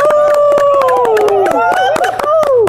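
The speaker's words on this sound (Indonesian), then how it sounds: "Tepuk tangan dulu dong!" Sharp, regular hand claps sound close and loud beneath a sustained sliding melodic tone, likely studio music, with people voicing over it.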